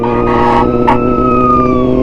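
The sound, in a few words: police or fire truck siren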